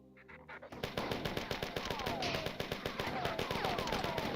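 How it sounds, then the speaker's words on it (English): A machine gun in the 1994 game Marathon fires a long, fast, steady stream of rattling shots after a short quiet lead-in, loud and continuous to the end, with high whining ricochet-like tones over it. "Yeah, machine gun."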